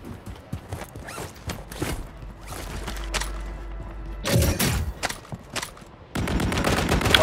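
Gunfire from a gun in the Call of Duty video game: sharp, dense bursts of rapid shots, with a short volley midway and a louder, sustained barrage near the end over scattered game noise.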